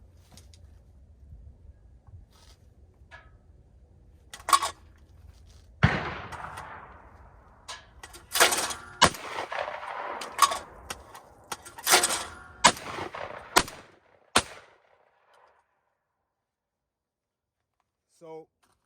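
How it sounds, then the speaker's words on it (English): Shotgun fired outdoors for a recoil test, a few sharp loud blasts with echoing tails amid scattered clatter and handling noises, then quiet, with a voice speaking between the shots. "today the experiment is for you to observe the recoil from both shotgun shells"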